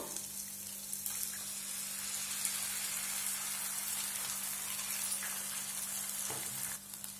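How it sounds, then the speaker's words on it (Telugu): Egg fries in a pan with ginger-garlic paste, giving a faint, steady hiss of sizzling oil throughout, with a low constant hum beneath and a few light clinks. "ఇలా వేపుకున్న తర్వాత ఇందులోకి మనము ఎగ్ యాడ్ చేసుకుందాము."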